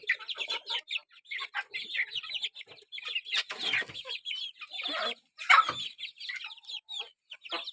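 Several chickens, breeding hens, cluck and chatter nearby in a coop in uneven bursts, with occasional louder squawks and brief pauses between calls.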